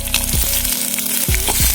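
Sliced onion frying in oil over medium flame alongside garlic and ginger for Tamil Nadu style allam pulusu, a steady close sizzle with a few stirring scrapes throughout.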